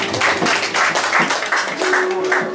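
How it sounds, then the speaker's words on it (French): A church audience at a ceremony presenting a church, Eglise Le Rédempteur, claps in a steady, rhythmic beat of about two claps per second, close and fairly loud, while a voice speaks and sings over the clapping. "On nous applaudit Mackenzie Renaud."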